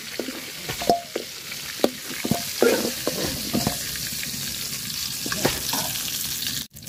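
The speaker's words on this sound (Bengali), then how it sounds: "তো মাছের মাথাটা আমি হালকা করে ভাজা নিছি" Pangas fish head sizzles as it fries lightly in hot oil, a steady close crackle and hiss with occasional pops and scrapes across the whole stretch, no voices.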